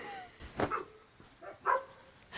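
A couple of faint, distant dog barks, two short yaps separated by a pause, over quiet background noise.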